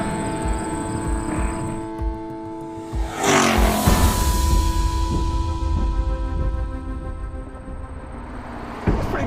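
A car engine revs up hard into a loud rising roar, tires scrubbing near the peak, then eases off and winds down under braking, with steady whining tones underneath; up close and clear, with no talking.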